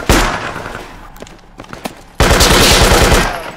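Loud video game gunfire laying down suppressing fire on an enemy: a sharp opening burst, a few scattered shots, then a sustained rapid automatic volley, close and dominant.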